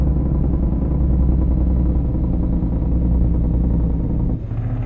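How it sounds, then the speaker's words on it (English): A deep, rumbling modded truck engine brake in Euro Truck Simulator 2 gurgles continuously at steady loudness, dropping off slightly near the end. "engine brake was just such a deep gurgle"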